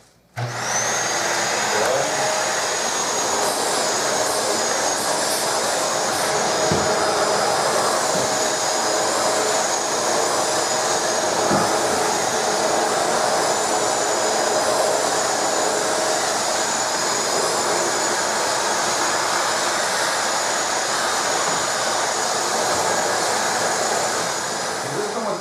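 A Shark Rotator vacuum cleaner switches on and runs with a loud, steady, high-pitched whine and airy roar that holds unbroken to the end.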